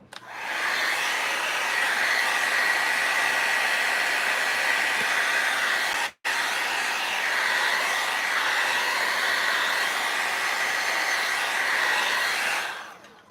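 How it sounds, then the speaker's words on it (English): A heat gun blows steadily for about thirteen seconds, drying a layer of Pentart cracking paste with a loud, even hiss. The airflow cuts out briefly midway and then resumes. "I'm gonna hit it with the gun though, just to be safe. I shouldn't say that, heat gun."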